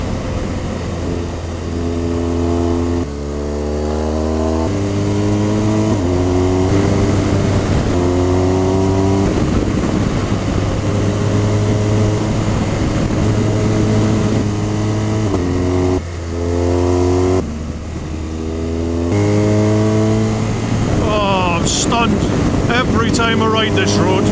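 A motorcycle climbs and winds along a twisting mountain road in the Picos de Europa, its engine rising and falling through repeated gear changes under heavy wind rush. It stays loud and continuous, with a rider's voice faintly present.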